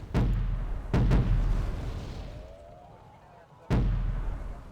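155mm howitzer fire in the game Wargame Red Dragon: three heavy booms, two in quick succession and a third after a pause, each with a long, low rumbling decay.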